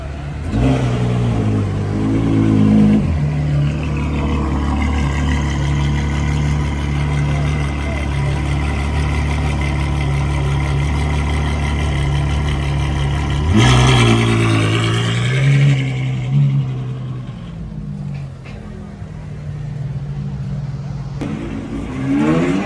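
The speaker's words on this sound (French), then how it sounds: "Là on a la 812 qui fait énormément de bruit." A loud Ferrari 812 GTS with Novitec modifications rumbles and revs nearby in Cannes, holding a steady roar before swelling and then dropping to a lower idle, with voices talking at times.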